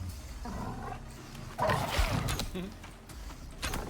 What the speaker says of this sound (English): and of course, a wolf shows up.